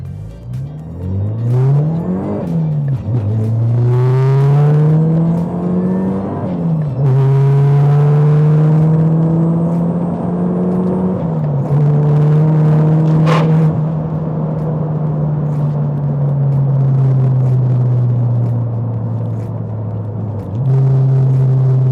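A Mazda fitted with a CorkSport turbo kit accelerates hard through several gears, the engine note rising in pitch then dropping at each shift, loud and close from inside the car, with tire and road rumble underneath.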